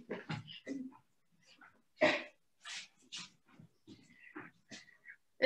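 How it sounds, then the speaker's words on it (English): A small dog moves around an office, making soft snuffling breaths, sniffs and faint rustles in short, scattered bursts, quiet and close by. "It's my little dog Angel"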